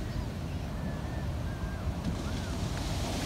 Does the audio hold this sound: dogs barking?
no